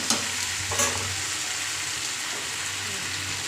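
Continuous close-up sizzle of pumpkin frying in a pan, with a couple of brief scraping stirs near the start.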